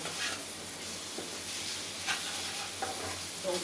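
Chicken patty filling fries in a pan, seasoned with black pepper, under a soft, steady sizzle with occasional faint scrapes of stirring, all at a moderate distance.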